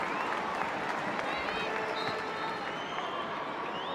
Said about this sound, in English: Back in Middlesbrough, the crowd applauds.